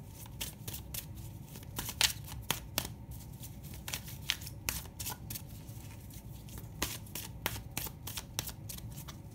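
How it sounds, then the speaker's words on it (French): Oracle cards being shuffled and drawn by hand, a quiet, close run of irregular papery flicks and taps spread across the whole stretch. "on va aller tirer une carte de l'oracle de la chamane"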